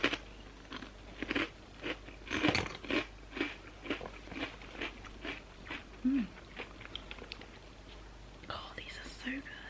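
Crunchy snacks chewed close to the mic, with repeated crisp bites and crunching in an uneven rhythm, mixed with soft whispering.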